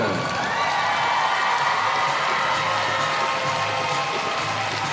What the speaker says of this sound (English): Give a big round of applause to Ukraine